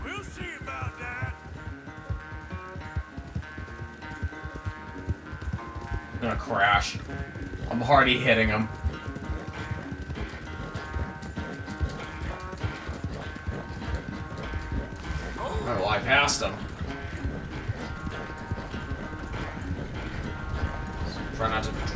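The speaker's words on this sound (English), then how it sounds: "Horse race." Horse hooves galloping at a steady, rapid beat through a horse race in Red Dead Redemption 2, running continuously under frequent talk.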